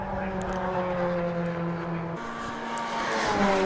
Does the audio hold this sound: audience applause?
no